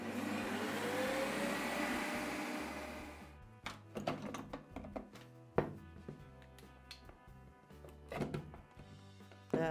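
A Ninja Creami machine re-spins blueberry ice cream with a splash of 1% milk added, a steady whirring motor that stops partway, followed by faint taps and thunks of handling.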